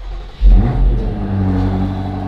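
A stock BMW SUV engine turns over and catches, revving up loudly and then settling into a strong, steady idle close by.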